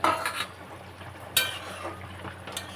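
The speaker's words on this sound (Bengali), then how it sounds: "এইবারে আমি এই ভাজা মাছগুলো দিয়ে" Fried rohu fish pieces go into a simmering potato and pointed gourd curry. A soft, steady bubbling sizzle is broken by three sharp clatters of a utensil against the pot, with no talking.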